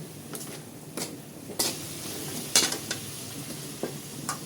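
Ground meat seasoned with salt and black pepper is stirred in a sizzling pan, with a quiet frying hiss under repeated spatula scrapes and metallic clinks against the pan.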